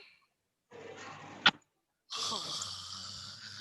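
A person imitates snoring with a rough, breathy snort, a short sharp burst in the middle, then a louder raspy exhale.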